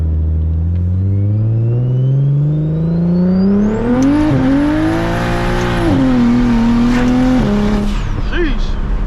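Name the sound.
single turbo BMW 335is engine revving while driving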